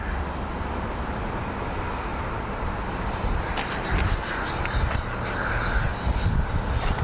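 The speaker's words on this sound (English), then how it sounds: "This flight is inbound from Philadelphia. Hawker Beechcraft." A Hawker Beechcraft jet arriving from Philadelphia at Columbus John Glenn International Airport, a steady broadband engine roar that stays fairly even and builds slightly, with no talk over it.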